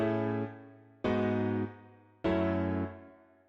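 Regular piano drenched in reverb layered with an electric piano for a song intro, three sustained chords struck about a second apart, each ringing out and decaying, loud and alone with no voices.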